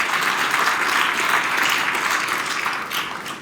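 Audience at a legislative public health and safety summit applauding, a dense sustained burst of clapping that stays loud and even, then begins to taper toward the end.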